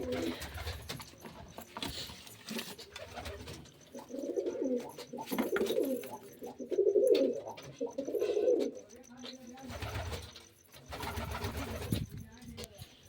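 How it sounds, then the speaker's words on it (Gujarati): Pigeons in a breeding pair coo in repeated low murmuring bursts, fairly close, with faint background noise and brief gaps between phrases. "આપણે અટાણે આ કબૂતરને જોવા આવ્યા હતા"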